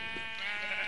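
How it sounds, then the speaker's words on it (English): A sheep bleats in the game Minecraft, one short wavering bleat over a steady background hum, close and moderately loud with no talking. "Actually, I'm gonna kill these sheep,"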